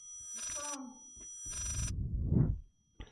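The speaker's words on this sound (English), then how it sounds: "What fucking phone from hell is this?" In the horror video game Layers of Fear, a phone rings in two bursts of electronic ringing separated by a pause, close and moderately loud, while a player talks over it with low murmuring speech.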